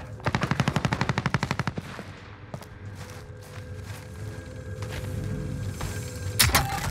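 Rapid automatic gunfire in Warzone crackles in a close, loud burst of evenly spaced shots, followed by quieter game ambience and a sharp final shot near the end.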